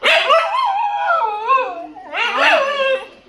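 A dog howls close by in two long, wavering, pitch-bending cries separated by a brief pause, with no talking.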